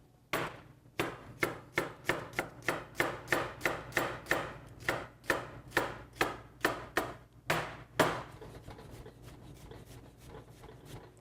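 A very sharp knife chops food on a cutting board in an even run of about twenty quick close strokes, then trails off into quieter scraping.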